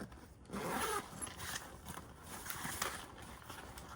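A quiet zipper rasps along a Harvest Label bag pocket, a short pull followed by a few softer scratchy strokes.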